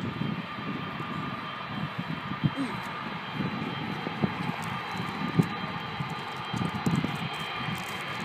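A smaller airplane's engine drones steadily at a distance, a continuous broad roar that holds level throughout while people talk nearby.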